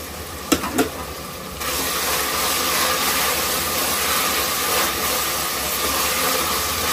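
Washed mint is dropped into a hot frying pan and sets off a loud, sudden hissing sizzle that holds steady after a couple of short knocks at the start.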